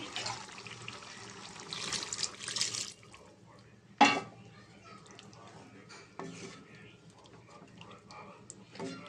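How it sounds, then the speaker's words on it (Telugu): Water goes into a pan of chicken and egg curry being cooked, a steady splashing pour for a few seconds, then softer clinks of utensils and stirring in a quiet kitchen. "దీంట్లో మనం కొంచెం వాటర్ వేసుకుందామండి"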